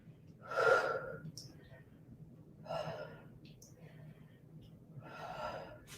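Heavy, effortful breaths from someone doing a strength workout, three loud breathy gasps or exhales spaced a couple of seconds apart, close to the microphone over a low steady hum.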